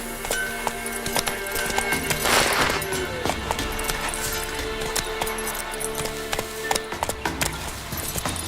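A horse trots in the Witcher 3 video game, its hooves clopping in a steady rhythm along with faint jingling tack, set against a layered game soundscape with a brief swell of noise early on.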